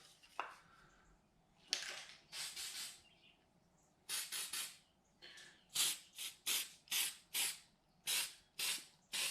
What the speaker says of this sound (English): I got a little copper spray gasket. We're going to spray both sides.